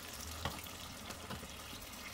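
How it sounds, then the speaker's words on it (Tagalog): Water pours into a cooking pot of sautéed chicken caldereta base with tomato sauce, a steady, faint splashing rush with light sizzling, and no talking. "So, lalagyan din natin ng tubig."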